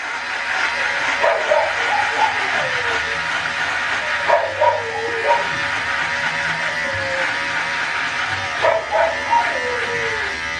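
A dog howls and yips in short, wavering, rising-and-falling bursts, repeated about three times with pauses between, over a steady background hiss.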